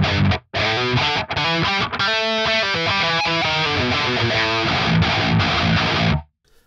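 A loud, distorted electric guitar with an attack pick plays chords and picked notes with a gritty attack, starting and stopping in short phrases.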